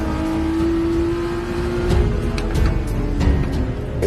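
A car engine revs and drones steadily, with a strong sustained tone that rises and swells toward the middle and end, loud and close with no voices.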